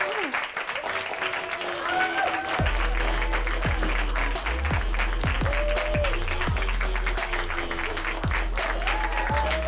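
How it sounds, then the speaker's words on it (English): Audience applause for a comedian at a live comedy show, a steady, full round of clapping from the crowd that carries on throughout, with a host's voice heard over it. "Clap it up for our final comedian of the night."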